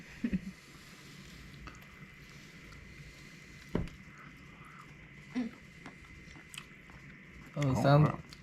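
Close, crunchy chewing of cooked muskrat tongue, coming in a few separate bites with a longer burst near the end, against faint background rumble and with a little talking.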